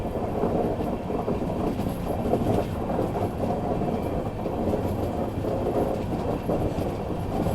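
A passenger train on a Bihar line heading toward Hajipur and Sonpur rumbles steadily from inside the carriage, a loud continuous roll with a faint clatter of wheels on the rails.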